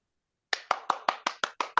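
Eight sharp hand claps land at a steady, even pace after half a second of silence, close and crisp like a single person clapping alone.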